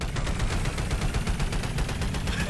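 Rapid automatic gunfire in the video game Sketchy's Contract, a steady stream of evenly spaced shots, loud and close, running without pause and with no talk.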